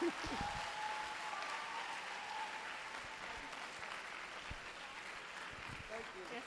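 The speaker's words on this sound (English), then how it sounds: "can we give her a better resounding round of applause?" Applause from the audience at a nursing summit, a faint, distant, sustained clatter of many hands clapping steadily, low in level throughout.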